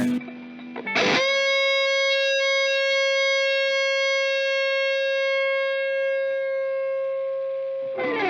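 A Strandberg Boden 6 True Temperament electric guitar played with reverb only: a single sustained note rings out clearly and evenly for several seconds, bracketed by brief picked attacks at the start and end, with no voices.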